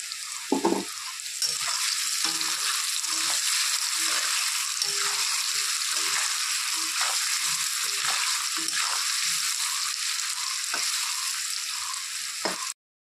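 Potatoes fry in hot oil seasoned with turmeric and salt, a dense close sizzle holding steady for the whole stretch, broken by occasional stirring clatters, no talk.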